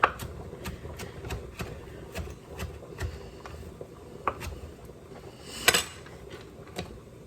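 Knife chopping sun-dried tomatoes on a cutting board, a run of quiet, evenly spaced taps at a steady rhythm, recorded close and alone with a slightly louder knock near the end.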